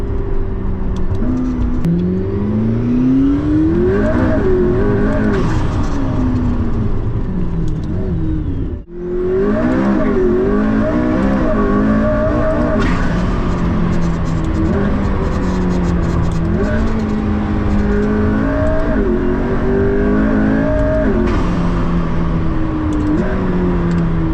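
A loud McLaren P1 supercar engine revs repeatedly, pitch rising and falling with each throttle blip, close up and continuous, with one brief drop in the middle.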